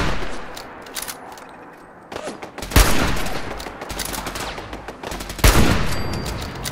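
Rapid automatic gunfire from the video game Fallout 4 rattles in sustained bursts, with two sharp, loud blasts standing out over the steady clatter.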